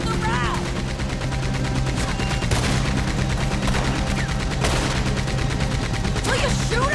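Gunfire during a train heist in the video game Red Dead Redemption 2: repeated close shots and rapid bursts crack over a constant droning background, with shouted voices mixed in.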